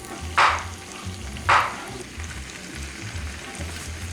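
Seasoned cottage potatoes sizzle in a pan while being stirred, a steady low frying hiss broken by two sharp scraping strokes of the spoon.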